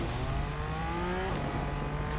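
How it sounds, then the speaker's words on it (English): A car engine in the Fortnite video game revving loud and close, a steady buzzing roar with rising tones that shifts pitch midway. "You know that people hear that loud engine?"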